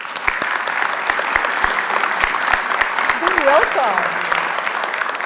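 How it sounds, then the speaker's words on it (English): A small audience at an outdoor Laborers 5K Halloween Walk in RW Park claps to welcome a speaker. The claps are sparse and distinct, with a brief whoop and a short spoken greeting among them. "Please join me with a generous applause for our friend and ally,"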